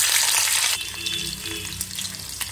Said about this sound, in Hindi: उसमें हम प्याज डालेंगे